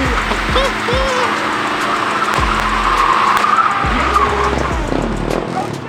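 A dually pickup truck drifting on the street at a rowdy meet, its tires skidding and screeching continuously under a roaring engine, loud and close, while a crowd cheers and people talk.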